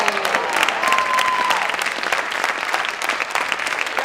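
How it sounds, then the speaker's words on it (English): Enthusiastic audience applause fills a school auditorium during a high school drama awards ceremony, a dense, loud, sustained clapping from a large crowd with faint voices mixed in. "Keep clapping, Catcher."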